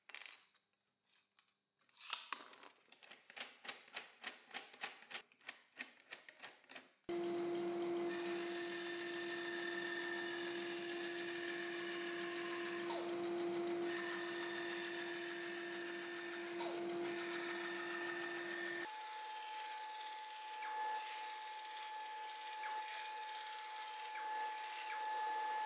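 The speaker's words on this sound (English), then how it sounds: "I have to adjust the jig to the desired radius and make the cut." A sheet of acrylic is cut into a circle with a no-hole circle cutting jig. Rapid rattling clicks come first, then a loud, sustained whining machine tone that shifts pitch partway through, steady and close.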